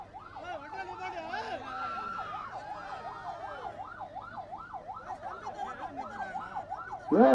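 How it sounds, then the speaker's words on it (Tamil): A wailing emergency siren rises and falls repeatedly at a steady pace, fairly loud and continuous, ending with a sharp burst at the very end. "சைரன் போட்டு போயிட்டு இருக்காங்க."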